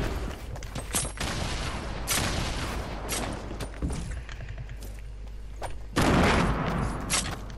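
Guided rocket launcher explosions in Fortnite burst in several sharp, loud booms at irregular intervals, with rumbling decay between blasts and a heavier blast near the end.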